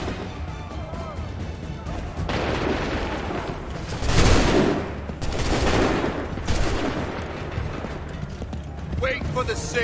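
Musket volley and scattered gunfire in Assassin's Creed III, bursts of shots rising around the middle amid a busy battle soundscape with horses, fairly loud and dense, with shouted voices mixed in.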